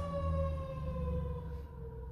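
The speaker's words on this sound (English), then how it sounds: "Pardon the siren." A steady siren wails in the distance with a slowly falling tone, holding continuously before thinning out.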